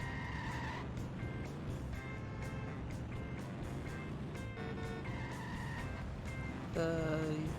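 Utility car from a Simpsons video game drives along with a steady engine hum and tire noise, moderately loud, with game music tones over it.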